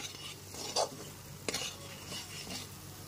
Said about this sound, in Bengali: সমস্ত ভেজে নেওয়া আলুগুলো দিয়ে দেওয়ার পর মশলার সাথে খুব ভালো মতো মিশিয়ে নিচ্ছি